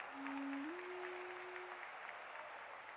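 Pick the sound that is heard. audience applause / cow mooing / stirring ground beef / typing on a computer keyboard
audience applause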